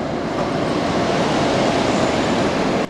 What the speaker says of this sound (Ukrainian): потяг Львів-Маріуполь прибуває на станцію Вінниця